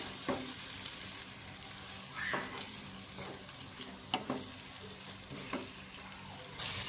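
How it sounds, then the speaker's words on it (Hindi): Tomatoes fry in a pan for an aloo methi sabzi, giving a steady close sizzle with a few brief stirring scrapes and clinks, and no talk. "इसको हल्का सारा फ्राई करेंगे ताकि जो ये टोमेटो वो गल जाए"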